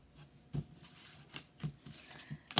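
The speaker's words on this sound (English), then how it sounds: "Me shuffling the cards, doing the most, all of that." Quiet riffling and soft taps of tarot cards being shuffled, in irregular bursts with a sharper snap at the end.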